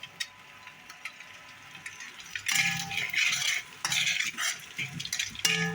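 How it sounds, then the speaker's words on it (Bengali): Kokola noodles cooking in a pan, quiet at first, then loud stirring and scraping of a utensil against metal over a sizzling hiss, in several close bursts with short pauses. "একটু নুডলস রান্না করে দিচ্ছি"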